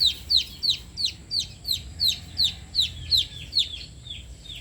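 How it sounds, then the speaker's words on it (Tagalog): Rapid high-pitched peeping from chicks, a steady string of short chirps about twice per second, close by with no talk. "Yan ang mga sisiw nila."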